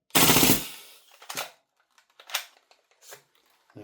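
A Vorsk VMP1 airsoft gun fires a short, loud full-auto burst close by, followed by a few quieter scattered clicks and mechanical noises.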